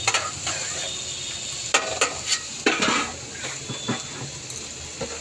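Spice masala with turmeric and salt sautés in a pan, a soft steady sizzle under repeated scraping and clinking of a utensil against the pan, close and moderately loud, with no talking.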